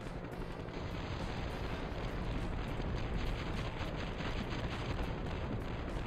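Weapon fire and an enemy car blowing up in the Interstate '76 driving combat game, heard as a dense, sustained roar of explosive noise lasting several seconds at steady loudness, with no talk.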